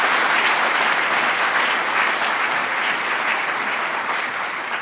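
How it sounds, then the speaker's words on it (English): Sustained, dense audience applause fills a lecture hall at the Ig Nobel Awards roadshow at Imperial College London, loud and even throughout before easing slightly at the end. "please, warm applause to Dr."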